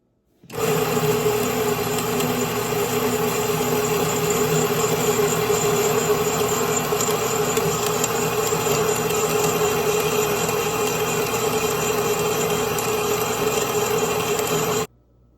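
A Grain Maker mill grinds hard white wheat into flour with a loud, steady, dense mechanical roar. It starts abruptly and holds constant for the whole stretch, with no voices over it.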